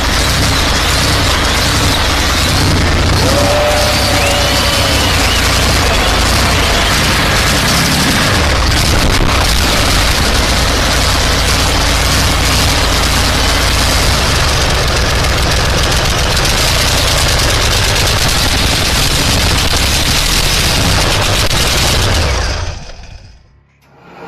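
A Soviet Zvezda M50 engine runs at a loud, steady idle with heavy low rumble and mechanical knocking. It goes on for over twenty seconds and then cuts off abruptly.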